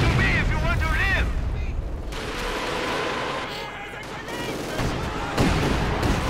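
Rumbling volleys of Katyusha rockets and scattered gunfire on the Soviet side of a Company of Heroes 2 battle, dense booms running throughout with a commentator talking over them.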